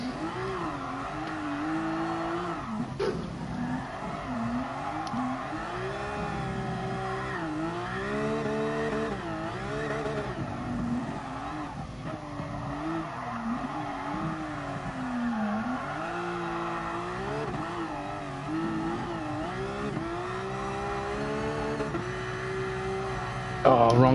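Car drifting around the Nordschleife in Gran Turismo Sport, a continuous engine note rising and falling with revs through the whole stretch, with a voice talking over it.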